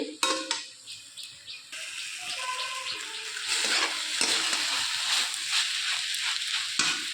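Water spinach (kolmi shak) stirred and fried in a pan after cooking covered for about five minutes. A few scrapes and clinks come first, then a steady loud sizzle builds with rhythmic stirring. No one speaks.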